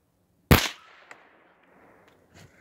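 One sharp gunshot from an old Remington Model 12 pump-action .22 LR rifle during a raccoon shoot, a short close crack with a brief decay and faint small knocks afterward.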